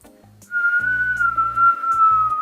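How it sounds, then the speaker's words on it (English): A steady, sustained whistle holding roughly one pitch for about two seconds, close and clear, with soft low rumbling beneath. "I can just straight whistle"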